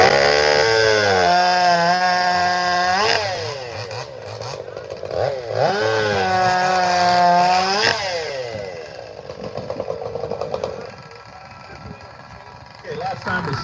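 A chainsaw at a saw competition revs up and down in two long rising and falling surges, loud and close, then idles amid crowd noise and voices.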